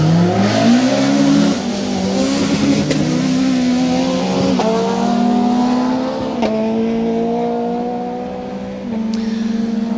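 Vauxhall Nova rally car driven hard on a stage of the Colin Ellmore Memorial Rally 2025, engine loud and close, revving and shifting through gears with rising and dropping pitch.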